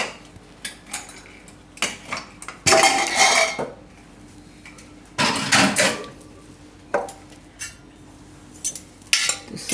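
A pressure cooker of boiled soya chunks is opened in a home kitchen, with sharp metal clanks and scrapes of the lid and vessel in irregular bursts, loud and close, between quiet pauses.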